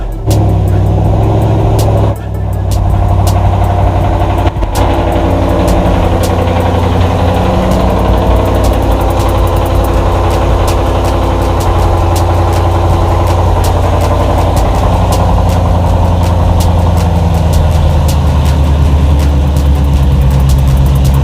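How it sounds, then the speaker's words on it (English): Car engine idling steadily after new spark plugs were installed, a loud, close, continuous low rumble with an even hum, starting up abruptly at the beginning and running without talk. "Time to start them up and let's see what he sound like."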